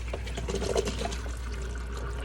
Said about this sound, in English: you're also going to want to rinse it off